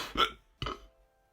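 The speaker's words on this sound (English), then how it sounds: "I just coughed, hiccuped and burped at the same time." Two abrupt, close throat sounds in quick succession, a cough tangled with a hiccup and a burp, then silence.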